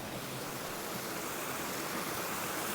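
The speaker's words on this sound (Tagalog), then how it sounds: "So, ito naman yung ilog." A milky, grey river fed by sulphur springs flows steadily, a dense, even rushing of water with no pauses and no voices.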